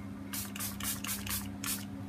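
A homemade spray is misted onto paper for graffiti-style collage, in about five short hissing bursts in quick succession, close and fairly loud over a low steady hum.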